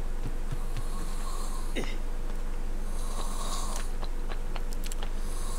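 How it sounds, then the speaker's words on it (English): A person snores in the background, giving repeated rasping snores at a regular pace over a constant noisy hum. "you guys are probably going to hear the snoring in the background"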